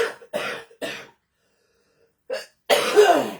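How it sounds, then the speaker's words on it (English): A woman coughs a few times in short separate bursts, then goes quiet for a moment. She finishes with a harsher, longer cough and throat clearing. "I've got a cough."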